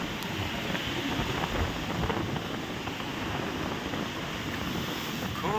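Sea water washing up on the sandy beach at Negombo, Sri Lanka: a steady, broad wash of surf with wind rushing over the microphone, continuous and fairly loud throughout with no voices.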